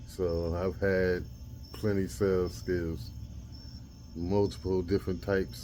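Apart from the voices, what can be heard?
crickets chirping at night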